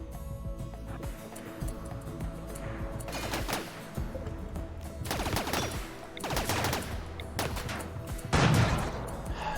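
Slug turret gunfire in RimWorld, several loud bursts of shots in clusters at irregular intervals over a busy game backdrop, with a heavier thump near the end and no talking.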